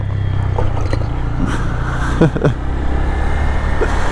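A Honda Grom motorcycle being ridden in second gear gives a steady, close engine drone with slight rises and dips in pitch, alongside wind rush and faint road noise.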